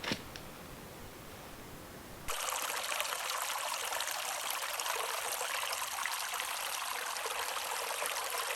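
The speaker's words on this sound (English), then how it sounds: "And here you can see the creek source." A small creek in Arizona hunting country, near its source, flows with a steady broadband rush and trickle that begins abruptly after a quieter stretch of faint ambient hiss, continuing evenly and fairly close with no voices.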